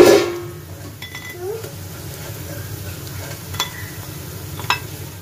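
Potato peels fry crisp in a pan with a soft continuous sizzle, broken by occasional stirring scrapes and light clinks of a utensil against the pan.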